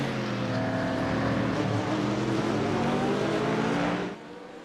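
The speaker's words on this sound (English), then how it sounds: "just listen to that engine. That Mustang, American power." Ford Mustang race car engine in the iRacing video game, a loud, sustained roar holding steady for about four seconds before dropping sharply in level, with no voices present.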